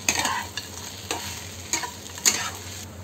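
Fried peanuts stirred into sabudana khichdi in a pan: spaced spatula scrapes over a soft continuous sizzle, close up, with no talking.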